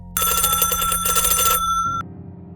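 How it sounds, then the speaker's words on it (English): A kitchen telephone bell rings in a rapid trilling burst for about two seconds, then cuts off, leaving a low hum. "Before I reached it, the dead kitchen phone rang again."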